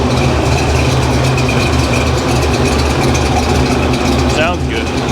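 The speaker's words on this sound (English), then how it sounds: "I'm going to put it in gear and see what the RPM drops down to" A supercharged car engine idles in gear steadily with a low, even rumble around 700 RPM, continuous and close, with a brief faint squeak near the end.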